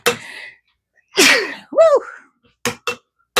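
A person sneezes after grinding pepper powder, with a sharp burst, a rising gasp-like vocal sound, then a few quick short sniffs or exhales close to the microphone.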